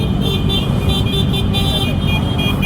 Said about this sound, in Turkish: Tahminimce 500 artı motor var.